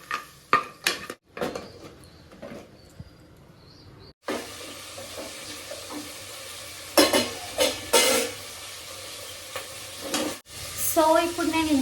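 Bones for soup sizzle in a hot pot while a spoon stirs and scrapes them, with repeated clanks against the metal over a steady frying hiss.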